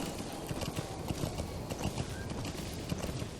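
Horse hooves clip-clop at a steady trot in Metal Gear Solid 5: The Phantom Pain, a faint, regular beat of hoofbeats under a low background hum.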